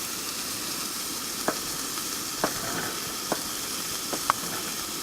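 Eggs with pepper jack, Asiago and sharp cheddar frying together in one pan over a campfire in an Oregon forest, a steady loud sizzle broken by a few soft scrapes of stirring.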